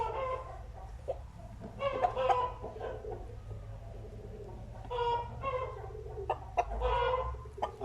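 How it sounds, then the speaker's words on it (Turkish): Chickens cluck in scattered bursts against a steady low hum, including a Gold Crown rooster, with a few busier flurries of calls rising and falling over several seconds. "Şu an elimizde bir tane Gold Crown horozumuz var arkadaşlar."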